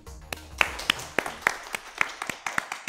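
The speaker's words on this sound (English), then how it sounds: "One small round of applause" A small, thin round of applause from a handful of people at a school quiz competition, about ten distinct claps spread over a few seconds, fairly quiet and without any voices.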